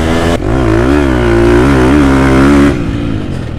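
A 2023 Husqvarna FC 250 dirt bike engine revs hard and close, the loud buzzing tone rising and wavering through the throttle before dropping back to a lower, steady idle-like drone.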